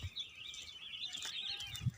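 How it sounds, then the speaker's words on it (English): Birds chirp near a paddy farm, a thin, faint, continuous twittering heard from a distance over quiet outdoor background noise. "birds are chirping"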